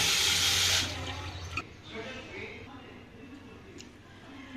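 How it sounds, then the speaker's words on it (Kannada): Sona Masoori rice washed in a bowl of water for vegetable pulao, opening with a burst of running and splashing water that fades into quieter swishing and sloshing, with a voice speaking faintly underneath. "ಸೋನಾ ಮಸೂರ ಅಕ್ಕಿ ತಗೊಂಡು ಒಂದು ಬಟ್ಲಕ್ಕೆ ಹಾಕ್ಬಿಟ್ಟು ಕ್ಲೀನಾಗಿ ವಾಶ್ ಮಾಡಿಕೊಂಡು ನೀರೆರಡು ಹಾಕಿ"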